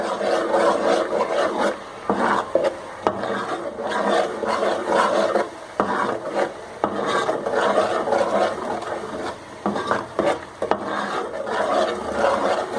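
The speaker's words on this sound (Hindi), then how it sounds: "ये मसाले हम इसमें शामिल कर देंगे और इसको हम अच्छी तरह से भून लेंगे।" Ground roasted cumin and spices stirred and roasted in a pan with tomatoes for dhaba-style mash ki daal, giving repeated close rasping, scraping strokes of a spoon against the pan, with no talking.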